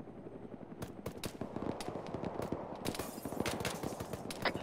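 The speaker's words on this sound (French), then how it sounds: "Négatif, négatif, on est sous le feu d'RPG" Heavy gunfire in the Arma 3 military video game, dense overlapping bursts and sharp reports, some close and loud and others farther off, under a steady rumbling background with no talking.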